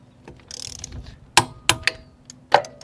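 A torque wrench tightening trailer wheel lug nuts to 65 ft-lb in a star pattern gives several sharp metallic clicks, close and fairly loud, spaced over a few seconds, with a rattling ratchet sound just before them.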